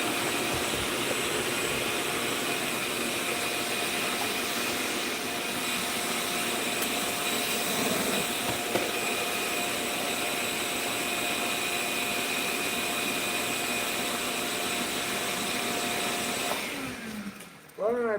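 A vacuum cleaner motor runs steadily and loudly at close range, a dense whirring drone with a high whine that holds unbroken for most of the stretch before cutting out abruptly near the end.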